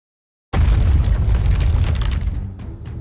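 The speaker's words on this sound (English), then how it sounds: "I hear gunfire and explosions." A sudden loud video game explosion bursts in after a short silence, followed by sustained rumbling blasts that slowly fade, with sharp cracks near the end.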